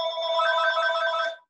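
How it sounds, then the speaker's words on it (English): A telephone bell rings in a steady continuous trill for about a second and a half, loud and close, then cuts off abruptly, with no talk over it. "Answer the phone."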